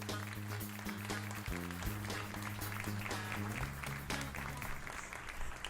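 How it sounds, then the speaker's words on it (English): Studio audience clapping for the host at the start of a talk show: a steady, full round of applause with sustained music tones running beneath it. "Thanks again for all that applause."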